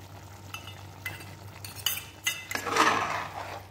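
Desi chicken curry with garlic leaves and homemade tomato sauce being stirred in a pan: intermittent scrapes and light metallic clinks of a utensil, growing busier and louder near the end, with no talk.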